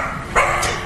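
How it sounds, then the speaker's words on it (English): Household dogs bark at home as a doorbell rings during a live news broadcast, giving two quick, close barks in under a second over a noisy background. "the doorbell rings and the dogs bark"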